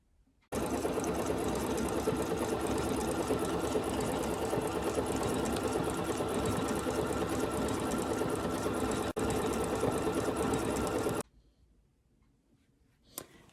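A Bernina sewing machine quilts fabric with a fast, steady mechanical whir and needle chatter, close and loud for about ten seconds, then stops abruptly, leaving quiet room tone with a brief click.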